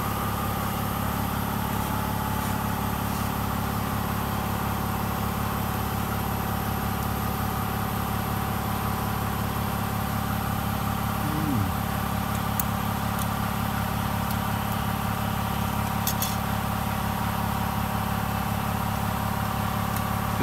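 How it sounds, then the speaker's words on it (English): An air compressor runs steadily beside a car during a rear brake pad job, giving a constant loud mechanical drone and hum that never lets up, with no talking. "Waiting for the compressor."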